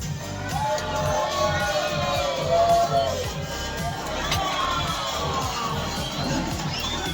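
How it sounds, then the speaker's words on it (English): A crowd cheers and whoops continuously, excited voices and children's shouts overlapping at a steady moderate level, with a few higher yells rising above the hubbub. "give him a roar of applause you've been waiting for"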